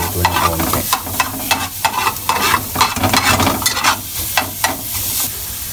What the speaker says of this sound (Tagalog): Ngayon po lang natin mag-golden brown yung ating bawang. Saka yung ating sibuyas maluto ng konti.